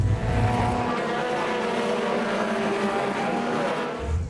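Formula 2 stock cars with Ford Pinto engines race in a close pack on track, a loud continuous roar of several engines droning together with no speech.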